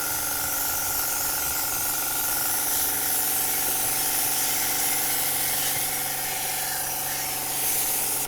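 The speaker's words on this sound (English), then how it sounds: "I'm going to spray this with water first." Water sprays steadily onto the outdoor coil of a ductless mini split, a loud continuous hiss lasting several seconds, with a faint steady hum beneath.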